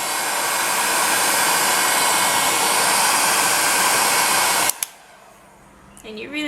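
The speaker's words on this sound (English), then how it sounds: "what I like to do is I just like to grab a heat gun" A heat gun roars as it warms polymer clay, a loud, steady blowing hiss that cuts off abruptly near the end with a couple of clicks, leaving a quiet room and faint handling noise.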